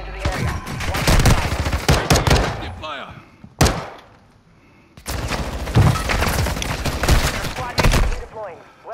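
Rapid bursts of loud automatic gunfire in a multiplayer shooter game, several volleys separated by brief pauses, with a player's voice talking over the shots.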